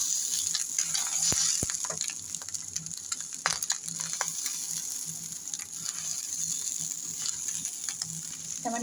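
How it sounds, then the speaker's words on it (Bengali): Ghee being stirred into chicken pulao in a pot, a soft sizzle with scraping and clinking of a spoon against the metal, close and continuous, with no talk. "এবার দিয়ে দেবো আমি ঘি, ঘিটা দিয়ে ভালো করে নেড়ে নেবো একটু।"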